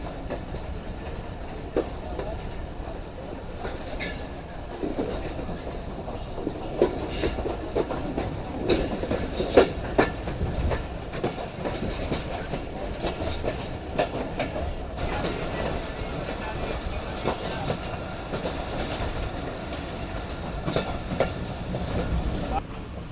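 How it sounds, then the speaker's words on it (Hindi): The Jaffer Express, hauled by a Chinese locomotive, rolls toward Kharian Cantt station with a continuous heavy rumble and rapid clattering of wheels over track joints, loud and close throughout. "जहाँ पर ट्रेन अभी अप्रोच बना रही है।"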